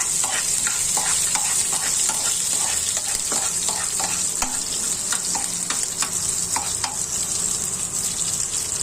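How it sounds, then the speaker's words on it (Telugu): Onion frying in a pan together with broad beans, a steady close sizzle running throughout with repeated scraping stir strokes at an irregular rhythm. "ఒక ఉల్లిగడ్డ పోసి అది కూడా వేసేసుకొని అన్నీ కలిపి వేయించండి"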